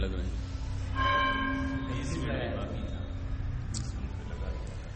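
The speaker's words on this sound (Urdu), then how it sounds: "کتنی گھنٹیاں لگ رہی ہیں" Bells ring with sustained metallic tones and a brief strike, sounding moderately loud over a busy background while someone talks.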